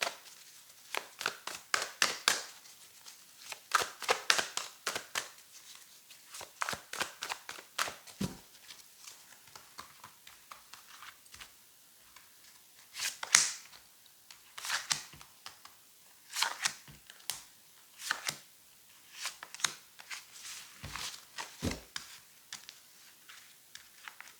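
Tarot cards shuffled by hand for a reading, a run of crisp riffling and flicking bursts with short pauses between them, close and quiet, no talking.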